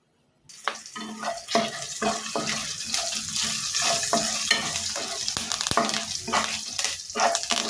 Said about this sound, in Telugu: మినపప్పు కొద్దిగా కరివేపాకు రెండు రెమ్మలు వేసుకొని ఇవన్నీ కలిపి వేపుకోవాలి